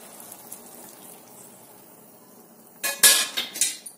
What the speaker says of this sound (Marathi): आता यात भाजीला शिजायला आपण पाणी टाकून देऊ.